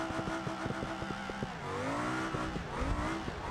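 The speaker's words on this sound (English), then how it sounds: "The sound that this 3800 makes with a more or less open exhaust header, I can tell you that's pretty accurate." A 3800 V6 car engine with a nearly open exhaust header in BeamNG.drive drones loudly, pulsing rhythmically at first, then revving and rising in pitch with a brief tire squeal.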